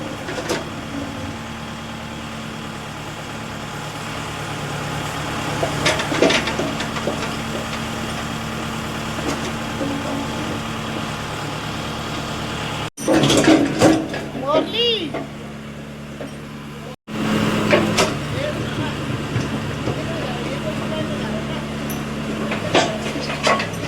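A JCB excavator clears debris from a drain, its diesel engine idling and droning steadily nearby, with knocks and clanks of work, under continuous talk.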